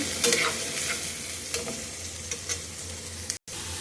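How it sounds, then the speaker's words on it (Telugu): Chopped onions and drumsticks fry in oil in a pan with a steady sizzle, broken by occasional stirring scrapes and clinks, close and continuous. "మొత్తం ఆనియన్ కూడా వేసేసానండి. కొంచెం వేగనీయాలి. కొంచెం వేగినాక మునక్కాయ కూడా వేసేసుకున్నాము."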